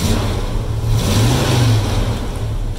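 Engine of a Chevrolet Silverado pickup with a carburetor and GM starter, revved through a rough-sounding exhaust. It gives a continuous loud drone with one gradual rise and fall in pitch across the short span, with no voices.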